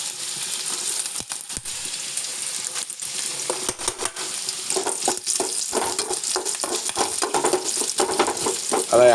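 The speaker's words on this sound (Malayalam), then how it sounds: "അപ്പോൾ നമുക്ക് ഈ തേങ്ങാക്കൊത്ത് അതിൻ്റെ അകത്തൊന്ന് ഇട്ട് കൊടുക്കാം." Coconut pieces fry in hot oil with a loud, continuous sizzle and spatter, broken by scraping stirs and clinks of a utensil against the pan, the bubbling growing busier toward the end.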